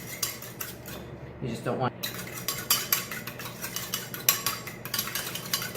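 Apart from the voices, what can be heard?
whisking egg and water with a fork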